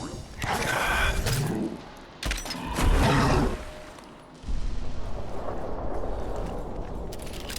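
Heavy gunfire from a weapon in Fallout 4 with a zombie apocalypse mod, sounding as loud booming bursts in two clusters followed by a rougher, sustained rumble of shots.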